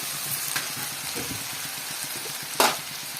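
Spiced potato curry frying and simmering in a pan after chilli powder goes in, a continuous close sizzle with occasional stirring scrapes and one sharper clatter near the end.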